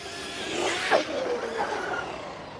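A Traxxas RC car, a Sledge or Rustler 4X4 VXL, racing at full speed across a baseball field: a whining electric motor and rushing tire noise that swell briefly and then hold steady at mid distance, with no speech.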